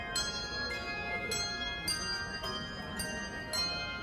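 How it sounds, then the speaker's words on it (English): Bells ring out Christmas music at an outdoor holiday gathering in a city, a sequence of clear, resonant struck tones in a slow melodic rhythm, moderately distant and unaccompanied by talk. "they have people playing Christmas music with bells"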